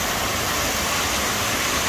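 Water rushes steadily beside a water wheel in Blumenau, a dense, continuous broadband roar that stays close and even, with no voices over it.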